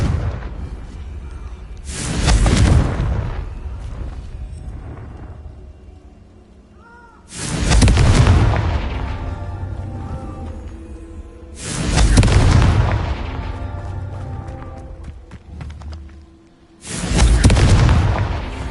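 Confringo blasting-curse explosions in the Hogwarts Legacy video game: four loud, booming blasts spaced about five seconds apart, each one crashing in and then fading into a rumbling tail.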